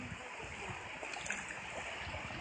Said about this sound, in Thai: วันนี้มาเที่ยวน้ำตกน้ำที่นี่ใสสะอาด มีปลามากมาย